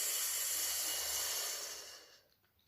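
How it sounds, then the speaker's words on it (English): A long, steady breath out during guided meditation, a soft airy hiss held for about two seconds before fading to near silence. "Breathing out."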